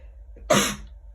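A single sharp sneeze-like burst, close and fairly loud, rising abruptly from quiet and trailing off quickly.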